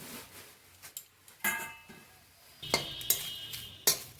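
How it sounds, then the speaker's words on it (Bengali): Neem leaves frying in hot oil in a wok while being stirred, with sparse spatula scrapes and clinks against the pan, a soft sizzle beneath and a couple of sharper metallic taps near the end. "এইভাবে নেড়ে চেড়ে আস্তে আস্তে পাতাগুলো মুচমুচে করে আমি ভেজে নেব"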